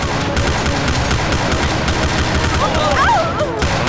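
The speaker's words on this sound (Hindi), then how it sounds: "वो गोलियां चला रहे हैं।" Rapid bursts of gunfire crackle loudly and continuously, with a short whistling, warbling tone rising near the end; cartoonish and busy throughout.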